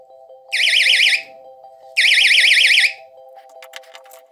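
A homemade fishing rod alarm made from a doorbell sounds two loud, warbling electronic trills in quick succession over a steady hum, followed by light clicks.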